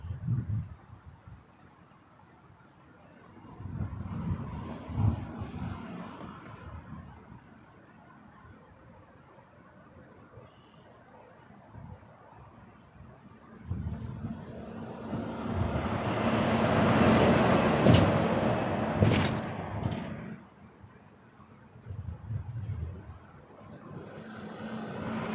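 An Envoy regional airliner takes off from runway 23 at Toronto Pearson, its engine roar building from a distant rumble to a loud broadband swell around the midpoint before easing off, with quieter rumbling beforehand and after.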